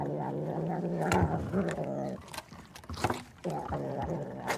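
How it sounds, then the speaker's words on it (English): A cat purrs up close, a rhythmic rumbling drone that comes in breathy bursts separated by short pauses. "it's the sound of a purring cat"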